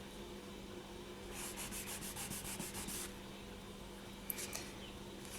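Polishing paper rubs against a small polymer clay earring piece in a quick burst of fine scratchy strokes, then a brief second pass, faint and close in a quiet room.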